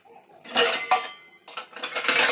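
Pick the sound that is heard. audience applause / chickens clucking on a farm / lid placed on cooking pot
lid placed on cooking pot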